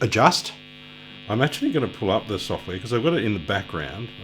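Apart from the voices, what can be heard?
None of the usual background noises is heard.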